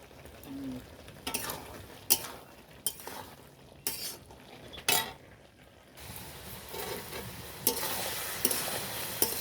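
Spices sautéed and stirred in a pan, with a steady sizzle cut by scraping stirs and the odd metallic clink of a spoon against the pan, close and alone.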